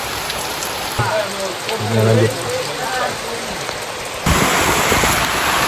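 Steady rain hisses over a mountain trail on the way to Rinjani's summit, a broad wash of drops with a short lull midway before it surges louder again; a voice speaks briefly over the downpour.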